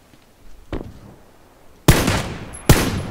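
Gunfire in the battle royale game PUBG: one faint distant crack, then two loud, sharp nearby shots about a second apart, with no talking.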